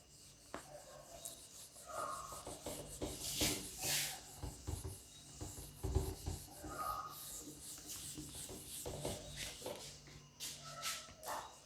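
An eraser rubs repeatedly across a classroom board, giving soft scrubbing strokes in uneven bursts with small knocks and quiet background shuffling.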